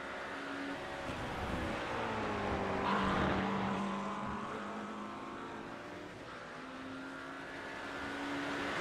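BMW GT3 race car engines from a racing video game at Brands Hatch, a continuous loud drone with rising and falling engine tones as cars battle closely, steady throughout with no talk.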